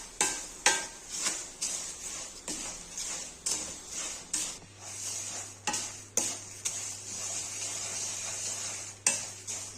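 Fried poha snack mixture with peanuts and salt is tossed and mixed in a pan, making dry rustling scrapes and light clinks in regular strokes, close and fairly quiet.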